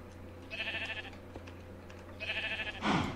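Two wavering bleats from sheep in a Minecraft-style SkyGrind skyblock game, each about half a second long, sounding fairly close against quiet background noise, followed by a brief burst of noise at the end.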